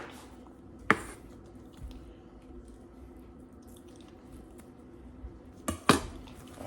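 A kitchen knife dicing an onion on a cutting board for hamburger steak: two sharp, isolated knocks about five seconds apart over quiet room tone, with no one talking.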